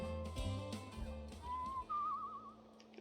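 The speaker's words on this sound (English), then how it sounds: "Whistling, whistling, whistling." Whistling in a narrative video game drifts in as a short, faint wavering melody over soft background music, rising briefly then trailing off after a few seconds.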